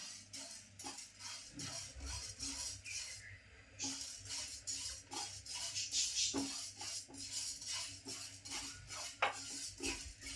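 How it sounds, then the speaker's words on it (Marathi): Urad dal is dry-roasted in a pan with a utensil for Malvani vade flour. A spoon scrapes and clinks against the metal in a steady, repeated stirring rhythm, close by, with no voices. "आता मी अर्धी वाटी उडीद डाळ घेतली, ती सुद्धा बघा गरम करते"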